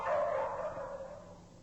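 A dog kept in a laboratory gives a single drawn-out whimpering bark that trails off, moderately loud and somewhat distant, with no other sounds around it.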